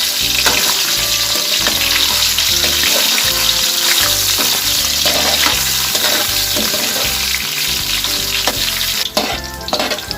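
Pork pieces frying in a pan while being cooked to golden brown for ginisang labanos, giving a loud, steady sizzle with intermittent stirring scrapes throughout, alone without talk.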